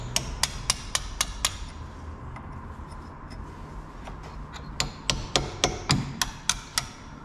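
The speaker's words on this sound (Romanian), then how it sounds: "o să utilizez o dăltiță cu un ciocan și o să încerc să mișc un pic siguranța de pe loc" A hammer striking a chisel against a rusted retaining clip on a Ford Transit during a pivot replacement, with two bursts of sharp, evenly spaced metallic knocks separated by a quieter pause, close and loud.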